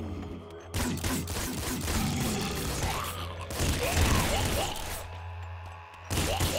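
Rapid, dense splinter pistol fire crackles through a Nuclear Throne run, a busy barrage of overlapping shots and impacts that runs for several seconds with brief lulls.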